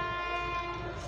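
A special train of ICF coaches approaching a station sounds a long, steady horn, loud and sustained across the whole moment, with low rumbling beneath.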